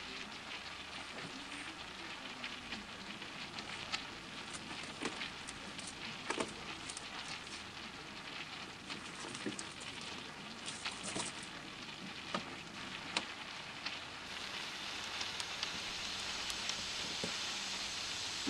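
Tomato cooks in an oil tempering for an Indian vegetarian dinner, giving a faint, continuous sizzle scattered with small crackles and pops.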